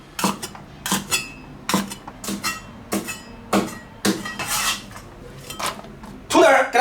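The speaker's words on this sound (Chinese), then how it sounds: "我们切成斜条。" Knife chopping celery into diagonal strips on a cutting board, a series of about fourteen sharp crisp cuts in an uneven steady rhythm, close and clear, ending with a louder rustling scrape.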